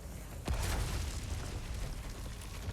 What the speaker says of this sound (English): Some really meaty explosions, some chunky headshots.